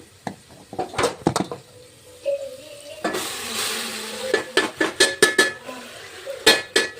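Boiled pasta being stirred and tossed through a spiced masala in a pan, with close, irregular scraping and clattering strokes of a utensil against the metal over a soft sizzle, and a brief denser burst of frying noise midway.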